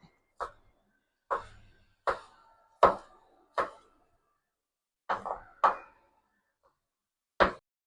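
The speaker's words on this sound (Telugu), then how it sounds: "దీన్ని మనం ఇలా కట్ చేసుకుంటే బీన్స్ కూడా కట్ చేసుకుంటాం" A knife chops green beans on a cutting board with about eight sharp, separate knocks at an uneven, unhurried pace, each hit crisp and close against an otherwise quiet background.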